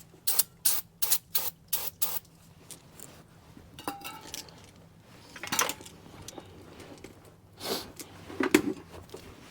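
Cleaner sprayed onto bolt threads during a lift kit install, several short, sharp hissing bursts in quick succession, then scattered clinks and handling noises with a few more sprays.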